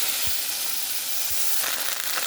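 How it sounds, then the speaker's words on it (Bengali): Okra sizzles in hot oil with a steady broadband hiss, broken by a couple of soft low knocks, likely from the pan or utensil, and a louder spitting burst toward the end. "তেল গরম হয়ে গেছে, ঢ্যাঁড়সগুলো একটু ভেজে নেব।"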